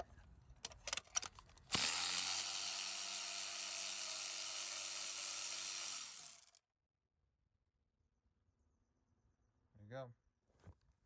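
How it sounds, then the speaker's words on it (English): A 3/8 electric ratchet fitted with a 5/8 magnetic spark plug puller on a Kia Telluride whirs loudly and steadily for about four seconds, then stops; scattered clicks come before it and a brief voice follows after silence. "5/8 magnetic spark plug puller on my 3/8 electric ratchet"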